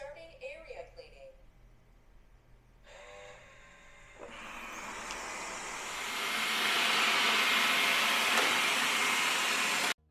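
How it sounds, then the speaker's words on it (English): A Wyze robot vacuum cleaner running indoors, with a steady whirring drone that rises and grows louder over several seconds after brief voices and beeps at the start. "Today we are going to check out the new Wyze Robot Vacuum."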